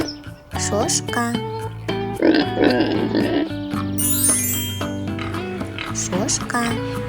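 A farm pig grunts and oinks in a run of short nasal calls, close and fairly loud, with faint tinkling in the background.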